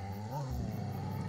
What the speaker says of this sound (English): Cullen owned the most fearsome guard dog in the land